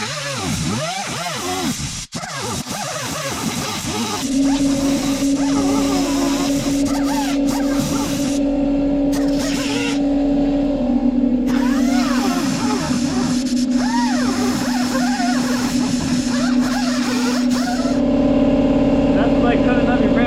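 A pump runs during a snorkel install on a Can-Am Outlander ATV, a steady droning hum with a clear tonal whine that starts a few seconds in and continues, with people talking over it.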